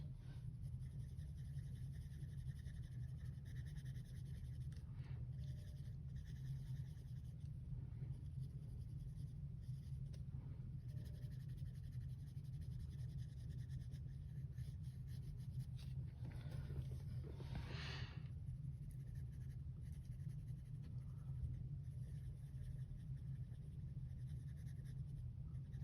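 Light umber colored pencil scratching across paper that isn't of the best quality, a soft continuous scribbling texture under a steady low hum, with a brief louder stroke burst partway through.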